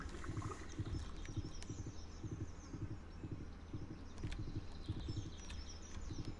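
Horse hooves clip-clop steadily in Stardew Valley, a rhythmic run of soft thuds over a light game backdrop with faint insect-like buzzing and no talk.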